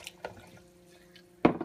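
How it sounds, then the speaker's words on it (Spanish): Two cups of broth pour into a blender jar while preparing green chicken enchiladas: a few faint drips, then a sudden close splash of liquid near the end. "Le vamos a poner las 2 tazas"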